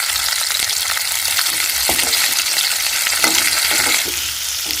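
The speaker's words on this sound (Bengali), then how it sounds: "এবারে এই সবজিগুলোকে ভালো করে বেশ ভেজে নিতে হবে" Pumpkin and taro pieces fry in hot oil in a pan, a continuous loud sizzle broken by occasional scraping stirs, with no voices.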